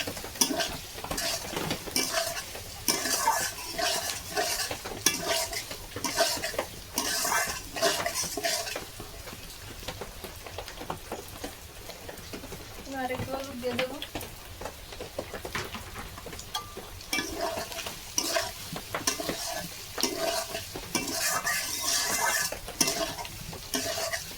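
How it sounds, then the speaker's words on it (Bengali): Ground spice paste and whole spices are stirred with potatoes in a frying pan, a spoon scraping and clattering rhythmically against the pan over a soft continuous sizzle, with no talking. "বাটা মশলাটাও আমি ভালো করে কষিয়ে নেব আলুর সাথে"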